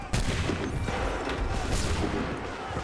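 Musket volley in the video game Assassin's Creed 3, a dense crackling burst of many shots blending into a loud roar that lingers for a couple of seconds, close, no talk.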